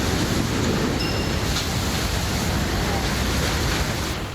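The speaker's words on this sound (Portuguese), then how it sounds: "mostra o momento exato quando a água começou a invadir a obra" Floodwater rushes into a construction site in São Paulo with a loud, continuous broadband roar and turbulent surging that holds steady the whole time.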